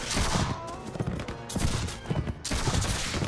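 A musket volley in Mount&Blade With Fire and Sword: dense, crackling, overlapping shots rolling out across a battlefield, loud and continuous, pulsing in rough bursts.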